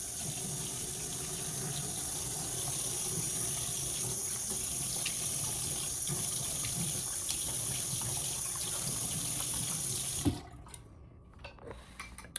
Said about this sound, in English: We have to splash some cold water on our face to wake us up.